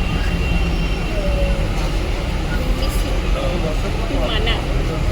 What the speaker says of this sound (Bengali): এই ট্রেন চলছে